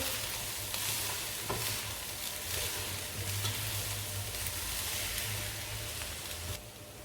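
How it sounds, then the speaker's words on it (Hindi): Fried vegetables and rice stirred together in a pan, a soft continuous sizzle with utensil scrapes and light clinks, close but fairly quiet, no voices. "सब्जियां फ्राई हो गई हैं, अब इसमें चावल शामिल करते हैं। मिक्स करेंगे।"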